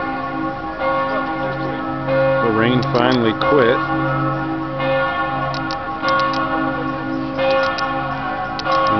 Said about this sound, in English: Salzburg at night, with the bells tolling